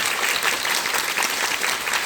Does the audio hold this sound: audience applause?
yes